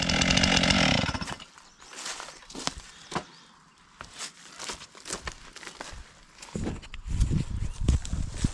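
A dull chainsaw cuts out a tree stump outdoors, loud at first for about a second, then dropping away to scattered knocks and rustling before revving up again toward the end.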